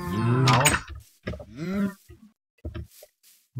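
Lowing cow from the video game Minecraft, a few short moo-like grunts in quick succession at close range, with a brief gap and a couple of softer calls near the end, no talk over them.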